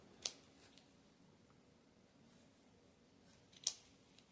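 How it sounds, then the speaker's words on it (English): Scissors snip through yarn pieces on a crochet bunny made from a square, giving two quiet, crisp snips a few seconds apart in an otherwise hushed room. "cut through these pieces as well"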